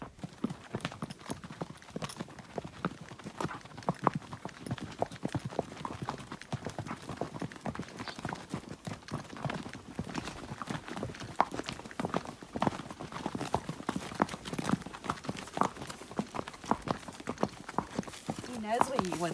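Horses walk on a farm, their hooves clip-clopping in an uneven, continuous rhythm close by while a person talks over them.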